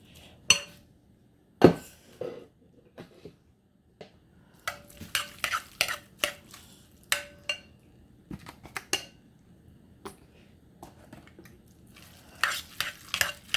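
Potato salad being stirred in a metal pasta pot, with a spoon scraping and clinking against the sides in irregular bursts, some sharp knocks, and quiet pauses between strokes.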